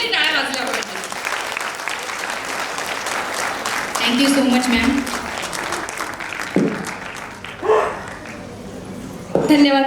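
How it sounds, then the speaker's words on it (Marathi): Sustained audience applause fills a hall at an annual day award ceremony, steady dense clapping throughout, with a brief spoken thank-you and talk layered over it near the end. "सगळ्यांनी टाळ्यांच्या गजरात त्या दोघींसाठी टाळ्या वाजल्या पाहिजे"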